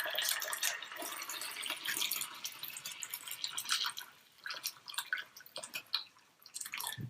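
Water from a kettle pours and drips into a pan of chicken breasts, a faint, irregular splashing and trickling that comes in uneven bursts with no talk.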